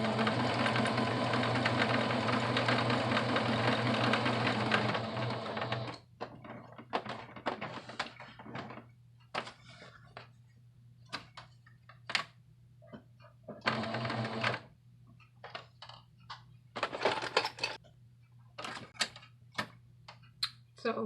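Domestic sewing machine top stitching a men's shirt, a steady rapid mechanical run for several seconds, then a series of short bursts and stops with clicks between, close and clear.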